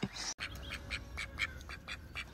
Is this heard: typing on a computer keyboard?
no